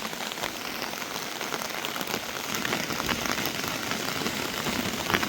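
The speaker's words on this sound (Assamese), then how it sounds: "যি বৰষুণ আৰু বতাহ ঢেৰেকনি মাৰিছে" Heavy rain pours steadily during a rainstorm over a rural road and yard with a lychee tree, a dense continuous hiss close to the microphone with no voices.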